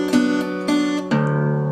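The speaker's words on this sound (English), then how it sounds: "the top string open, you let it ring," Open top string of an acoustic guitar in a delta blues fingerpicking lesson, plucked a few times and left ringing, with a sustained low drone and repeated attacks near and clear.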